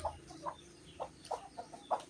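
Native free-range chickens, including hens, clucking in short bursts, several separate calls spaced irregularly at moderate distance over a faint outdoor background.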